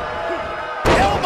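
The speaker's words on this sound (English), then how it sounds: "Elbow drop!" A sudden heavy body slam from an elbow drop in the WWE 2K19 wrestling video game hits the mat once, loud and close, after a steady background of arena noise.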